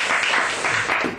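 Short burst of audience applause at a comedy performance, brisk clapping rising and falling in small waves over about a second.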